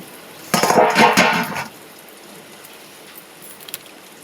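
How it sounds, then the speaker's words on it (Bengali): A metal lid is lifted off a pot of potol (pointed gourd) curry, then a spoon stirs it. There is a short burst of clinks and scraping lasting about a second, followed by a quiet room. "ঢাকাটা খুলে দিলাম, এবার একটু নেড়ে নেবো।"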